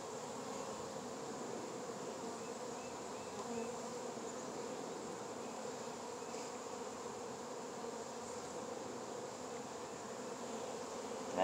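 Honey bees buzz around an opened hive during a February inspection in Fairplay, Maryland, a steady dense hum that holds at an even level throughout with no talk.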